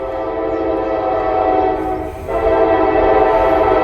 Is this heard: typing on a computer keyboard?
no